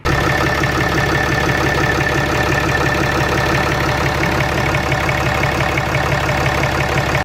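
A 2015 Cummins 6.7 diesel engine with a newly installed BD Diesel turbocharger runs at a steady idle, a loud, close, even clatter throughout.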